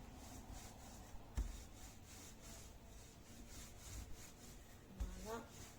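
Bugnes dough being rolled out with a rolling pin, rough soft rubbing strokes with a couple of sharper knocks, close by and fairly quiet.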